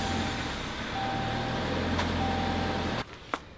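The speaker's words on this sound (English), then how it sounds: "Now we'll release it to make sure it releases." A car's electronic parking brake motors whir as they release, giving a steady, close mechanical hum that cuts off abruptly near the end, followed by a brief click.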